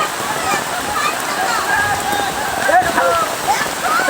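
Steady rain hisses down over an outdoor football match, a dense wash of noise with faint whistles and distant crowd voices mixed in.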